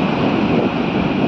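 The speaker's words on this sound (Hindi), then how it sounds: "समंदर की लहरें बहुत अच्छी उड़ रही थी" Sea waves washing onto a beach, a loud, steady broadband roar of surf with wind buffeting the microphone, continuous and close, with no talking over it.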